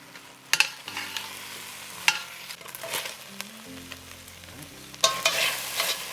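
Onions cooking in a pan for boneless beef short ribs, a steady sizzle with scraping and stirring clatters near the start, around two seconds and again toward the end, with no talking.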